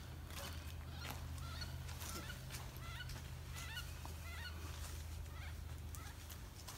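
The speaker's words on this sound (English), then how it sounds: "Ducks." Distant ducks quack and honk in short repeated bursts over a low steady hum, faint and outdoors on a hiking trail along the Perdido River.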